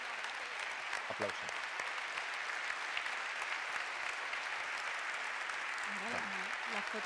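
Steady audience clapping fills a ceremony hall during the Aragon Medal tribute in Catarroja, continuous and fairly loud throughout, with brief voices surfacing faintly near the start and again toward the end.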